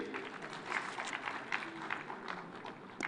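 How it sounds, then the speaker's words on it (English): Audience applauding a speaker at a national address event in Kenya, a steady patter of clapping hands spread across the room, moderately distant with a few sharper claps standing out. "Let's give her a round of applause."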